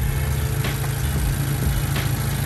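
A Mazda 2 Skyactiv engine idles with a steady, low hum throughout after a Liqui Moly Ceratec additive treatment, smooth and continuous with no revving.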